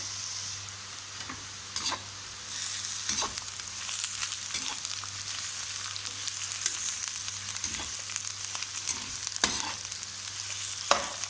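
Sliced bitter gourd (karela) fries in oil while onions are mixed in, a soft steady sizzle punctuated by repeated scraping and clattering stirs against the pan.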